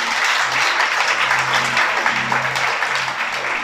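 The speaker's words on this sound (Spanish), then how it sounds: "Un aplauso al Señor, pues." A church congregation applauding during a Shabbat service, a full, even burst of many people clapping together, loud and sustained for a few seconds, with a faint low hum beneath.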